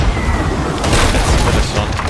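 Ship cannon firing in a pirate video game, one dense booming blast that fills the whole moment, loud and close.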